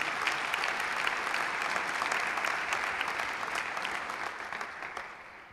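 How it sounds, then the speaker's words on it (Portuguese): A church congregation at a Portuguese-language sermon gives sustained applause, a dense even wash of many hands clapping at moderate distance, slowly fading toward the end with no clear talk over it. "Então dá um aplauso aí ao Senhor Jesus."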